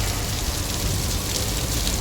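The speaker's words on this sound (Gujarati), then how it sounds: "વરસાદ આવે છે તોડી નાખે એવો" Heavy rain pouring during a windstorm in Morbi, a loud, dense, unbroken roar of drops hammering surfaces nearby, with no voices over it.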